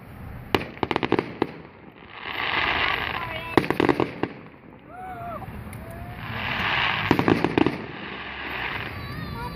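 Backyard fireworks go off in two bursts, each a cluster of sharp cracking pops over a rushing swell of noise, with whistling streaks between and a voice speaking faintly in the background.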